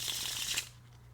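A deck of KEM narrow bridge-size playing cards is riffle-shuffled close up, giving a quick, soft flutter of card edges that ends abruptly in quiet.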